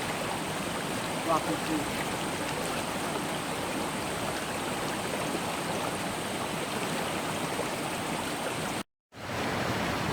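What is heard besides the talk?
river flowing, small natural waterfalls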